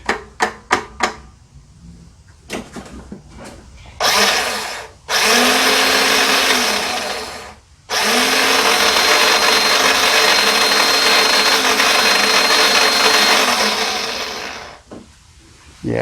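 A Toro mower's electric starter motor tries to spin the engine in two sustained whirring bursts of several seconds each. Both bursts are loud and close, broken by short pauses and preceded by a few clicks and knocks, and there is no talking.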